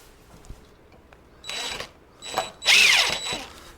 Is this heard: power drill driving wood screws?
yes